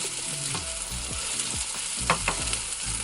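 Tuna pancakes sizzle steadily in a hot oiled pan, with a continuous close fry hiss broken by a few soft clicks and scrapes as they are turned.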